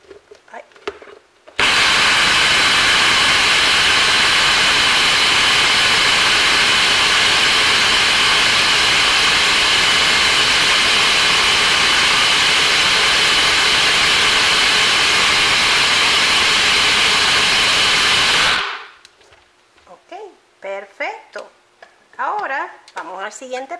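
A blender grinding rice into homemade flour, a loud continuous high-pitched roar that runs steadily for about seventeen seconds and then stops abruptly, followed by brief voice and handling sounds.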